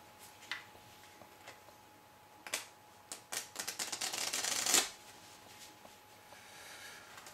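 Playing cards shuffled for a close-up magic trick: scattered crisp clicks, then a quick rising burst of dense riffling flutter, close and fairly quiet, fading to near silence.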